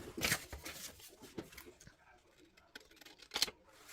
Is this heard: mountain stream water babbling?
no